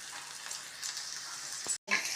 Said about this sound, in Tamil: நல்லா பொன்னிறமாக வதங்கட்டும்